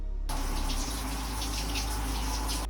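Shower water pouring steadily onto a patchwork poncho, a loud, close, continuous hiss and splash that starts abruptly and keeps running without pause.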